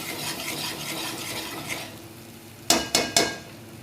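Stuffed brinjal masala cooks in a pan over a low flame, giving a soft sizzle and stirring for a couple of seconds before three sharp metallic taps of the spoon on the pan.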